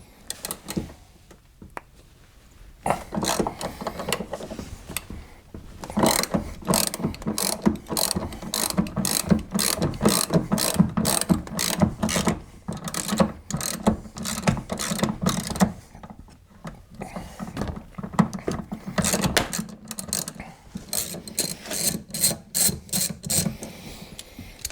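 Hand ratchet working loose the door hinge bolts on a Chevy Silverado pickup, giving long runs of rapid, close clicking in bursts separated by short pauses.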